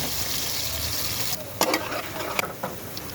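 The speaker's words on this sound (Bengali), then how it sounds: "পেঁয়াজ দিয়ে দিলাম তারপরে রসুন দিয়ে দিলাম" Chopped onion and garlic fry in a pan for a dried fish curry, giving a steady sizzle with a few sharp clinks and scrapes of a utensil near the end.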